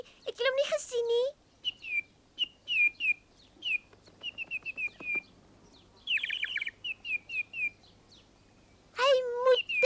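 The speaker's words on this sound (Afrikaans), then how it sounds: "Die eerste voëls kom terug." A flock of cartoon birds chirps and tweets in repeated short bursts throughout, with brief whistled calls, while a voice speaks at the start and end.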